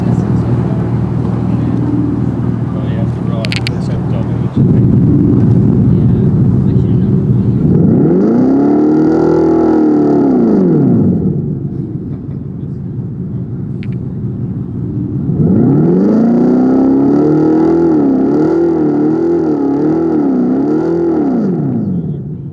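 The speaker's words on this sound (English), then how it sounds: "there is a Fratsonic exhaust system, which may be what brought you over here when you heard it all rev." A 2024 Dodge Charger Daytona EV's simulated Fratzonic exhaust roar revs up and down in two long, loud swells, rising and falling in pitch over a steady low rumble.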